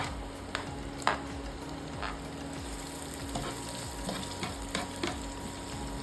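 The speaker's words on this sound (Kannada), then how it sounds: "ಫಸ್ಟ್ ಈರುಳ್ಳಿ ಹಾಕ್ತೀನಿ ಇದ್ರೊಳಗೆ." Chopped onion frying in a pan for egg bhurji, a steady close sizzle with clinks and scrapes of a spoon stirring against the pan throughout, no voices.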